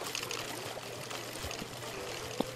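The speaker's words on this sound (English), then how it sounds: "the water is flowing out onto the portal" Water streams steadily out onto a portal in Minecraft, a continuous pouring rush with no break and only faint background noise.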